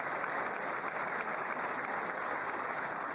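Sustained applause from a large audience in the chamber of Congress during a State of the Union address, steady and dense clapping throughout with no voices on top.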